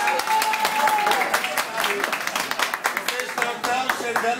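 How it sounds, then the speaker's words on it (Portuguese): Audience at a lively animated telegram show with a drag queen host breaks into loud sustained applause and cheering, dense clapping filling the room for several seconds, with a voice calling out over it. "Quem acha que eu tô bonita, aplaude muito agora."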